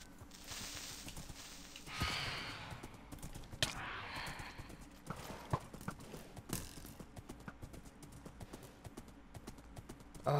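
Steady clip-clop of horse hooves trotting at a quick, even rhythm in Minecraft, fairly quiet, with occasional soft clicks and a faint breathy sound, no talking.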